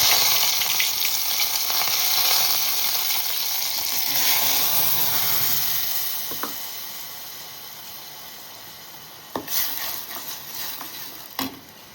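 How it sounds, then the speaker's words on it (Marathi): Mustard seeds and curry leaves sizzle in hot oil in a pot, a loud, steady hiss that fades gradually, then a few sharp pops and crackles near the end. "पातेल्यामध्ये तेल गरम करत ठेवलंय, आपण याच्यात राई टाकूया"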